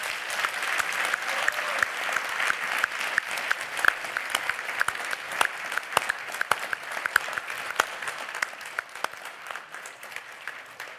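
A university graduation ceremony crowd in Essex applauds at length, a sustained wash of clapping with sharp individual claps popping out, steady and fairly distant before easing off near the end.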